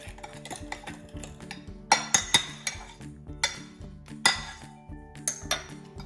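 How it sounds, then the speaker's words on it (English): Keto bread batter stirred in a bowl, with a spatula and other utensils clinking and knocking against the dish in irregular close taps and scrapes, some sharper clinks standing out, no talking. "now we're gonna be switching out to a spatula for stirring"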